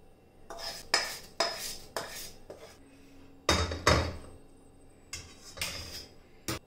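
Roasted poppy seeds are scraped out of a kadhai into a parat in a series of close, sharp metallic scrapes and knocks. The strokes come in uneven bursts with short pauses between them.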